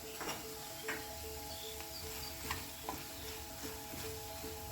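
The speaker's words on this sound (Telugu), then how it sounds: "ఇప్పుడు ఆనపకాయ ముక్కల్లో వాటర్ అనేది లేకుండా పూర్తిగా ఇంకిపోయేలాగా ఇలా ఫ్రై చేసుకోవాలి" Bottle gourd pieces fry and sizzle in a pan for an Andhra-style chutney, cooking until their water dries off. A steady close hiss runs throughout, broken by repeated light scrapes and clinks of stirring.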